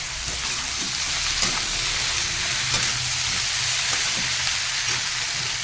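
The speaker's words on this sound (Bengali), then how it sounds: "এবার আলুটা ভেজে একটু ব্রাউন ব্রাউন করতে হবে" Potatoes fry with figs in a pan for a thin fish curry, making a loud, continuous crackling sizzle with light popping, close by and without voices.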